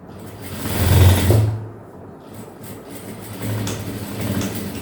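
Sewing machine stitching a seam on a half-circle maxi dress with princess cut, short close bursts of rapid mechanical whirring separated by a pause.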